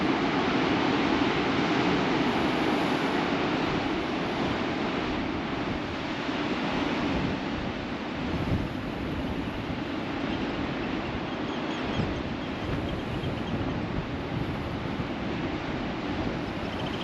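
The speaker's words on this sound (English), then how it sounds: "a very atmospheric beach as well with those waves" Ocean waves on a beach of volcanic rocks and boulders at the Giant's Causeway in Northern Ireland, a continuous roar of surf mixed with heavy wind noise buffeting the microphone, with no speech.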